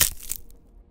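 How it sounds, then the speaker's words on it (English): A single crunching footstep lands on broken glass, a sharp gritty burst that fades within a fraction of a second; close and alone, with no voices. "The sound of stepping on glass loudly echoed."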